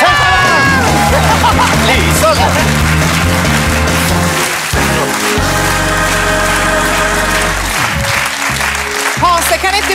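A TV bingo show studio audience applauds and cheers loudly and continuously alongside upbeat studio music, with a presenter's voice calling out over the crowd.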